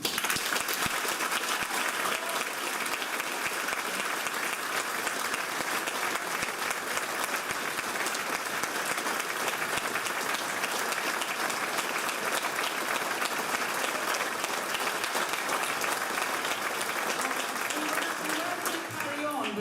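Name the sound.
audience applause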